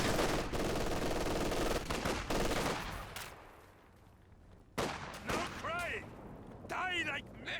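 Machine gun fire in Company of Heroes 2 during a 2v2 match, with bursts of rattling gunfire and heavy battlefield explosions, loud at first and then sporadic, under an excited voice talking over the action.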